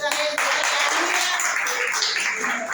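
Church congregation clapping during a Portuguese-language worship service, loud sustained hand-clapping from many people filling the hall without a break, with voices mixed in.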